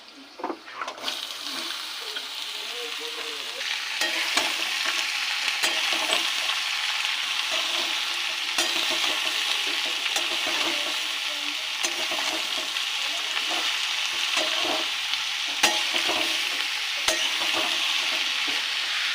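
Ash gourd pieces fry in a pan with a steady close sizzle while a spatula stirs them, scraping and tapping sharply at irregular intervals throughout.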